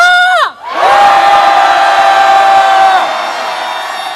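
A large protest crowd at a candlelight rally in Seoul lets out a sustained, loud roar of angry shouting. It rises after a brief dip, holds for a couple of seconds, then fades slightly.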